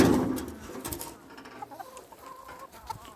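Free-range hens cluck in a lively, irregular chorus just after being released, close by, with a louder burst at the start and scattered clucks afterward, no talking.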